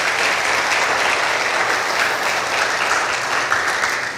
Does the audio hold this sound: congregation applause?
yes